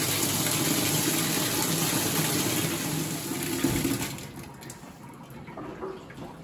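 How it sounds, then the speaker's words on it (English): A commercial dishwasher fills with clean, hot, soapy water, a steady rushing gush that holds strong for several seconds before thinning and settling into a quieter trickle, with no voices. "the machine will fill with clean, hot, soapy water"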